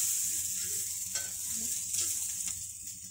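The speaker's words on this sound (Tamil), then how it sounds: "லோ ஃப்ளேமில் வச்சு நல்லா வதக்கி எடுக்கணும்." Vegetables sautéing in a pan over a low flame while cooking sambar, a soft steady sizzle with light stirring scrapes, close by and fairly quiet.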